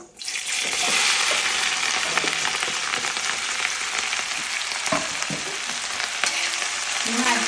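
Green chillies frying for pickle give a steady, loud hiss of hot oil throughout, with a few soft clinks and stirring knocks from a utensil in the pan.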